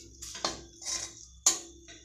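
A utensil stirs egg bhurji with turmeric in a pan, giving a few soft, sparse scrapes and light metallic clinks, faint and close with quiet gaps between strokes.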